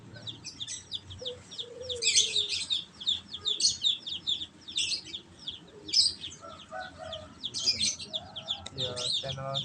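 Baby chicks of a hen chirp in a cage in rapid, repeated high peeps that continue throughout, close by. Faint human voices can be heard in the background.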